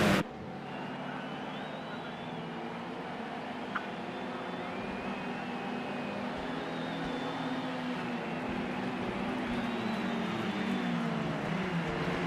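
A BMW race car engine in a racing video game on an Indianapolis circuit drones steadily throughout, its pitch rising and falling through gear changes at a moderate, even level with no talk.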